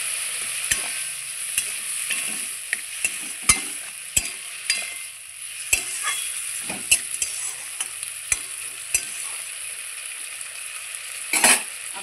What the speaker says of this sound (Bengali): পেঁয়াজটাও এর মধ্যে আমি হালকা ভেজে নেব